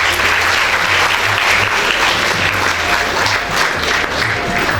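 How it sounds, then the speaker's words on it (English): Sustained, dense applause from a school ceremony audience clapping for students receiving achievement awards, loud and steady throughout with a faint crowd murmur underneath. "I want you to clap for them."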